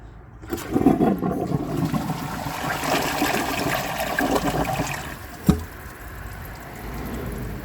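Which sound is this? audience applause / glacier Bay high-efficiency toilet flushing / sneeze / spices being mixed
glacier Bay high-efficiency toilet flushing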